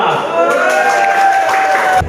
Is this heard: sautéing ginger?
no